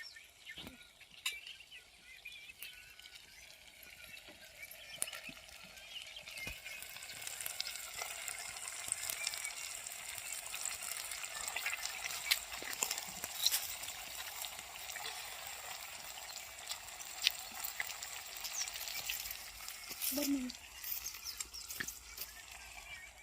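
Tilapia simmering in a spiced curry over an open riverside fire, giving a steady, moderate sizzle and bubbling with occasional stirring clinks, continuous throughout with no talking.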